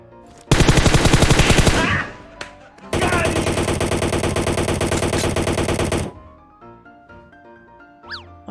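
Rapid automatic gunfire in the mobile battle royale game PUBG Mobile: a long dense burst, a short pause, then a second sustained burst, loud and close, followed by fading echoes and a few short electronic tones.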